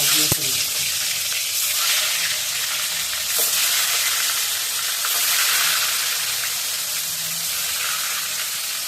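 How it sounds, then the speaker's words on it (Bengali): Fish sizzles steadily in hot cooking oil in a home kitchen, a continuous crackling hiss that holds at an even level throughout, with a few sharp spatters near the start. "তেলটা এতক্ষণ গরম হয়ে গেছে বন্ধুরা, এবার মাছগুলো ছেড়ে দিই।"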